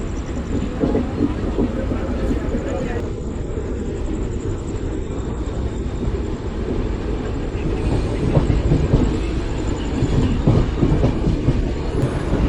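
A passenger train runs non-stop toward Ambala, heard from on board as a steady rumbling roll with faint rhythmic clickety-clack of wheels over rail joints, continuous and fairly loud throughout.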